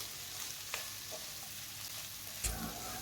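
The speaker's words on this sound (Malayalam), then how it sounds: "ചിക്കൻ ഇട്ട് കൊടുത്തതിന് ശേഷം വീണ്ടും നമുക്കിതൊന്ന് ഇളക്കി യോജിപ്പിക്കാം" Steady sizzling of chicken fried rice stir-frying in a pan, with a few scraping stirs and a sharp clatter near the end; no voices.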